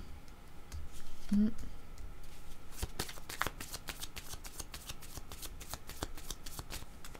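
Tarot cards shuffled and drawn by hand, heard as a close run of quick papery riffles and sharp clicking snaps that grow busier and more rhythmic through the second half.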